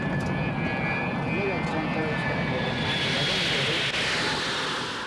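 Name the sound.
jet airliner flying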